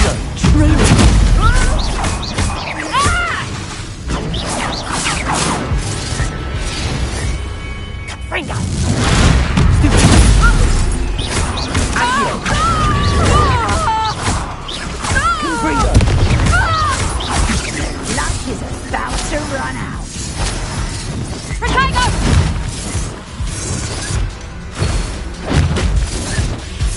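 Confringo blast spells from Hogwarts Legacy boom amid dense, continuous game combat noise with crashes and thuds, loud throughout and overlaid with spoken voice.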